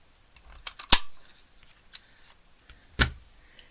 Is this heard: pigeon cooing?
no